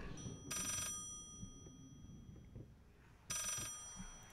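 An antique telephone rings in the horror video game Layers of Fear, two loud bright bursts of ringing separated by a quiet stretch of room ambience.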